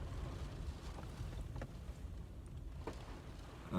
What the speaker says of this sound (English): Holy moly, it is windy out.